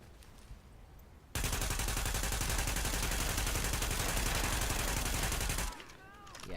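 Sustained automatic gunfire in the Tom Clancy's Wildlands video game, a dense loud burst of rapid shots lasting about four seconds, with quieter game ambience before and after.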